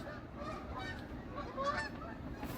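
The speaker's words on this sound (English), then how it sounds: "Canada geese." Canada geese honk faintly in the distance, several scattered calls over a low background rumble.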